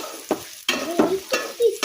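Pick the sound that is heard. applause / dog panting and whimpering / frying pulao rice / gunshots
frying pulao rice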